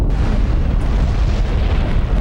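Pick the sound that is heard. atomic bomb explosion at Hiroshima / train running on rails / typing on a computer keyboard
atomic bomb explosion at Hiroshima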